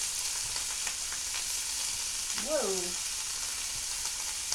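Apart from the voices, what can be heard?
rinsed chickpeas sizzling as they go into the pot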